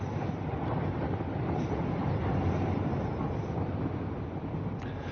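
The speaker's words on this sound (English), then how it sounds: "That's a big train." A very long ten-car train in Satisfactory rumbles by in a steady, dense roar, constant in level throughout with a faint clank near the end.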